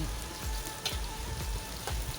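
Chicken frying in plenty of hot oil together with spices and grated coconut for serundeng, a steady close sizzle with bubbling crackle and occasional sharper pops, no talking.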